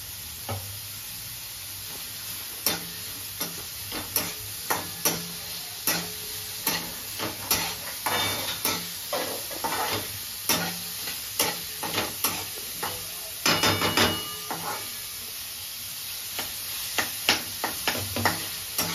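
Onion sizzles in a little oil in a pan, a steady bright hiss broken by frequent sharp clicks and scrapes of stirring, close and loud throughout with no talking.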